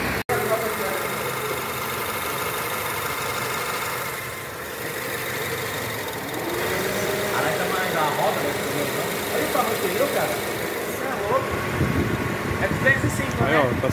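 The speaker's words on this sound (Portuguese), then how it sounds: "O carro já tá horas funcionando no elevador aqui" A Honda New Civic G8 engine idles steadily on a workshop lift after oil seal replacement, a low even hum with some vibration, while someone talks over it.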